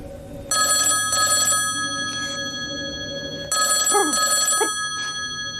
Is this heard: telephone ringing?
yes